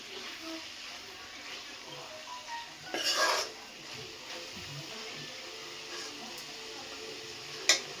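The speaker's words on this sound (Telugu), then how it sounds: "కలుపుకోండి కర్రీని." A spoon stirs prawn and brinjal curry in a pot, scraping and clinking against the metal in one clear burst, with a sharp clink later, faint and close in a quiet kitchen.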